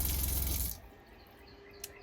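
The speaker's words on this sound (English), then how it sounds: "I know the water's going to drain now" Water rushes loudly down an unclogged RV drain for under a second, then cuts off into a quiet gurgle with one faint drip near the end.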